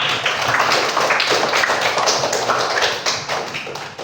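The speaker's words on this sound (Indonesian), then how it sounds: "tepuk tangan dulu dong" Classroom applause from a group of pupils during a primary school lesson on magnets, a steady dense patter of many hands clapping close by for about four seconds and fading slightly at the end.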